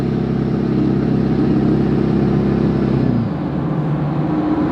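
A 2010 Ford F-350 pickup with the 6.4L diesel cruises on a highway, its steady engine drone and road rumble loud and close throughout, with a slight shift in pitch partway through and no talking.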